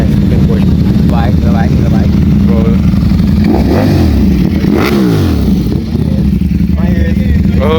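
A big-bore motorcycle at a car meet, its engine revving and rising in pitch over a constant loud crowd roar, with people talking nearby.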